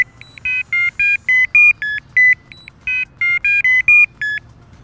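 Crystal carp fishing bite alarms emit a series of short electronic beeps at varying pitches, roughly a dozen clear tones spaced irregularly, loud and close with no talking.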